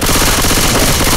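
Rapid automatic gunfire in the Left 4 Dead 2 Dark Carnival campaign, loud and continuous, a dense unbroken burst of shots with no pauses.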